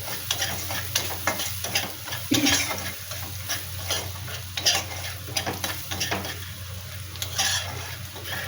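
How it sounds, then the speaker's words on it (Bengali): Eggplant pieces frying with turmeric and salt while being stirred, a continuous sizzle broken by repeated scraping and clinking of a spatula against the pan, close and fairly loud. "হলুদ দিলাম, অল্প একটু লবণ দিলাম, দিয়ে এটাকে ভালো করে ভেজে নেব।"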